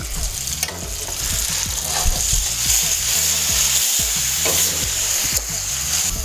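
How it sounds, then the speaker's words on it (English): Tomato pasta sauce bubbles and sizzles steadily in a pan, boiling at the edges with stirring scrapes, loud and close throughout, no talk. "See, it's boiling on the edges."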